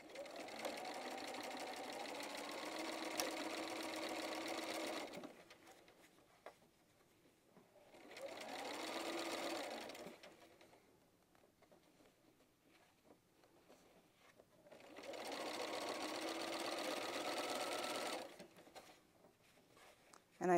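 A sewing machine stitching a freestyle pieced quilt block runs in three steady bursts of several seconds each, separated by quiet pauses. The hum is close and moderately loud.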